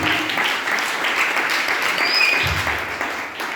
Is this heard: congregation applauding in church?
yes